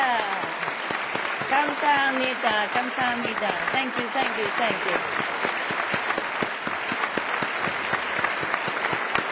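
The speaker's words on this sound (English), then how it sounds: "let's give our warmest applause for these absolutely beautiful NGOs" Sustained audience applause fills a conference hall for charitable NGOs at a children's health and sustainability event, steady and dense throughout, with a speaker's voice talking over it.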